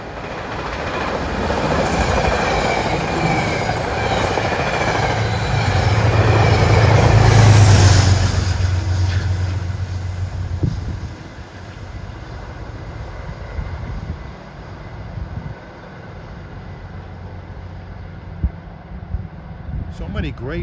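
A Metro-North commuter train running from Poughkeepsie to Grand Central passes close by on a still evening, its roar building to a loud peak and then fading into a long receding rumble with clicking rail joints.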